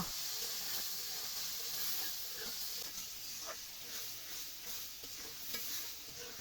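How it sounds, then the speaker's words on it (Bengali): Soaked red lentils (masoor dal) are stirred and fried with spices in a pan, a dense continuous sizzle with repeated scraping stir strokes close by. "এখন মশলার সাথে এটা নাড়িয়ে একটুখানি কষিয়ে নেব"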